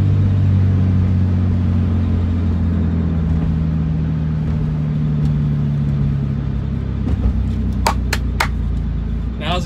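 A 2003 Mitsubishi Eclipse GTS drag racing produces a loud, steady engine drone and rumble throughout, the pitch holding then dropping off near the end, with a few sharp knocks in the last seconds.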